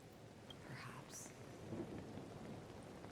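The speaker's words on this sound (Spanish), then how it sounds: "Sonido de lluvia y historia de fondo" Steady rain falls with a low rumble of distant thunder in a scene of the video game Honkai: Star Rail, a continuous wash of noise that holds at an even level throughout.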